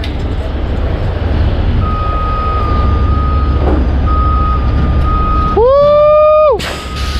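A heavy recovery truck lifts and moves an acid-laden tanker trailer after a freeway crash, its steady reversing beep repeating over a loud diesel rumble, ending in a long, falling air-horn-like blast and a hiss of air.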